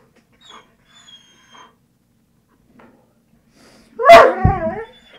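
Puppy barking and whimpering indoors, a few faint soft whines early on, then one loud close bark followed by a short whimpering yelp.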